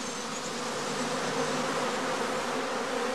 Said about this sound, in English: the bees are gathering nectar and pollen to supply the colony